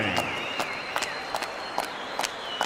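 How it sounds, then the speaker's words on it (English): A boxing crowd in an arena gives sparse scattered clapping after the fight, with a few sharp isolated claps and murmurs over a steady electronic hum. "let's give these both warriors a big round of applause"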